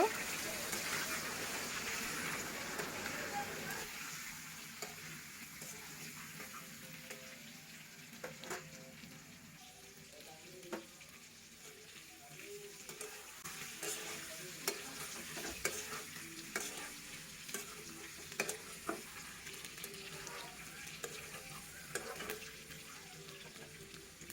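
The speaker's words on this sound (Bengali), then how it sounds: "ডিমগুলো ভাজা হয়ে গেছে, এখন আমি ডিমগুলো উঠিয়ে নিব।" Peeled boiled eggs fry in oil with salt and turmeric in a pan. A soft, steady sizzle runs throughout, broken by intermittent clicks and scrapes of a spatula turning the eggs, heard up close.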